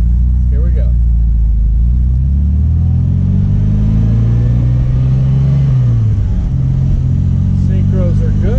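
A 1974 MGB engine revs briefly on a hot day, its low mid-pitched drone rising then easing back, loud and close with some talk faintly around it.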